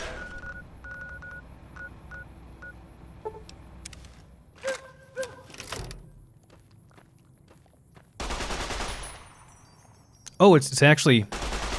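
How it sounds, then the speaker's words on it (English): Gunfire from the Cyberdog gun in Fallout: New Vegas, Old World Blues: a loud burst of shots near the end, after quieter footsteps, menu beeps and brief talk. "we can test out our Cyberdog gun"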